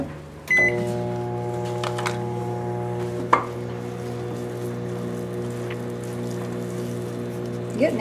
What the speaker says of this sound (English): we're going to microwave that until it's melted, about 30 seconds